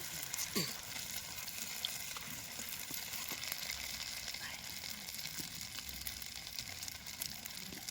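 Dried shrimp frying in an iron pan over a wood-fired stove, a faint, steady sizzle and crackle with occasional stirring scrapes, soft and continuous with no talk.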